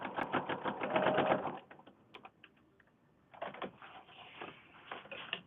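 A sewing machine back-stitches a fabric book page in two bursts of rapid, even stitching, separated by a short quiet pause, close and fairly loud with no talking.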